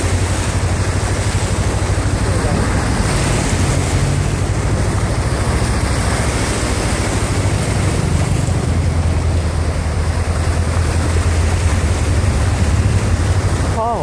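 A 2016 Honda CBR500R motorcycle pushes through deep floodwater in Nakhon Si Thammarat, giving a constant loud rushing wash of water and waves over low engine rumble and wind buffeting the microphone, with no breaks.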